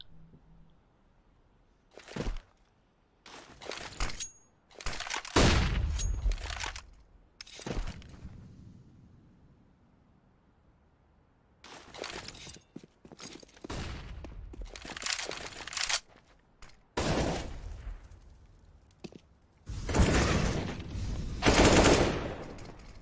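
Counter-Strike match on the Mirage map with AWP sniper shots and rifle gunfire, loud clustered bursts and single cracks arriving in irregular waves, separated by quieter stretches.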